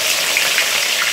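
Capsicum sizzling loudly in hot oil in a pan, left after a batch of pakoras, a dense steady frying hiss with no talk over it.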